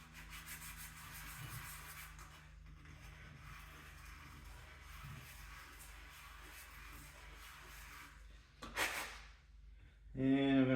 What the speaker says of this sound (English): I'm gonna rough up the back of this tip with this sandpaper.